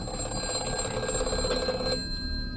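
A continuous electronic office telephone ringing tone with a rapid trill, steady and fairly loud, cutting off sharply near the end.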